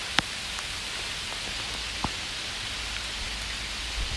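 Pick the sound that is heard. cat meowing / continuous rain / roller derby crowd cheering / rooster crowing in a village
continuous rain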